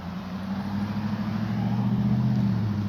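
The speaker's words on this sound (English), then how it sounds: "It's a big ass truck." A big truck passes close by, its heavy low engine rumble swelling steadily and staying loud and continuous, with no talk over it.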